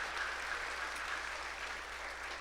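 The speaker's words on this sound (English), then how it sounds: "Round of applause for Dr. Miller and the committee." Sustained applause from a large audience at a university commencement ceremony, a steady even wash of clapping throughout with no talk over it.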